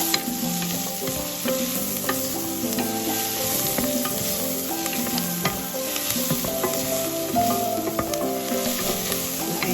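Onions and garlic fry over medium heat with a loud, continuous sizzle and crackle, while a utensil keeps stirring them in the pan.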